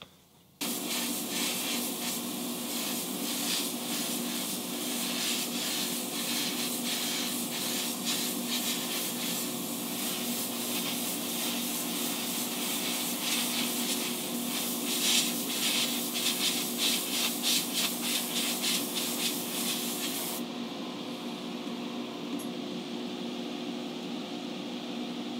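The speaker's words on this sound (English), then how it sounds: "a little bit of balancing clear just to make it easier to spray" A steady, close airbrush hiss sprays paint with balancing clear continuously on a model car, with faint rapid fluttering, then drops to a softer hiss near the end; no talking.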